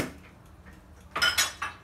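A spoon mixes spices with egg and a small spoonful of turmeric in a bowl, quiet at first, then a few sharp metallic clinks and scrapes of the utensil against the bowl near the end, close and brief.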